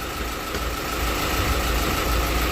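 An engine runs steadily just after its cylinder head has been refitted, idling close by with a continuous knocking mechanical hum and no talk.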